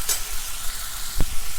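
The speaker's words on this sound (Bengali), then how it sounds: "এখানে কচুটা ফ্রাই করতে বসিয়ে দিয়েছি।" Taro frying in mustard oil makes a short, close, steady sizzle with one sharp knock partway through and no voices.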